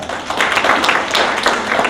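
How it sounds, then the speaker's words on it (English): Crowd at a university Oromo student event breaks into loud, dense applause, close and sustained with mixed cheering, filling the whole moment. "Give him a round of applause"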